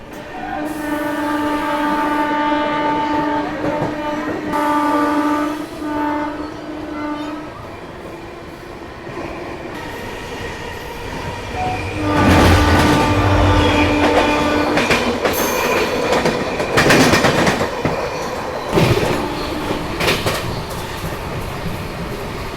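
An SMVT–Howrah AC Superfast Express rolls along with a loud, steady rumble of wheels and carriages, sustained tonal whining and squealing early on, then heavier clattering and rushing bursts as it runs.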